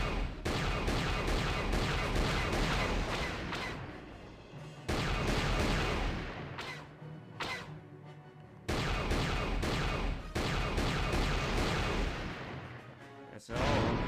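Turrets in Star Wars: KotOR fire in long, loud, dense volleys, three heavy sustained bursts separated by brief quieter gaps.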